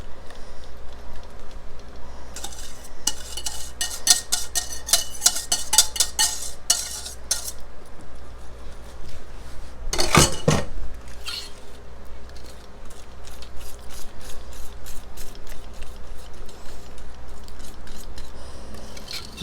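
A spoon scrapes and clinks against a bowl while stirring boiled triple berry freezer jam with sugar, with rapid irregular taps, one loud knock midway, and a softer steady stir after.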